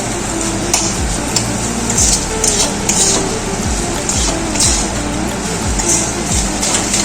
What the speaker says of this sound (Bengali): এবার আবারও ভালোভাবে নেড়ে নিচ্ছি।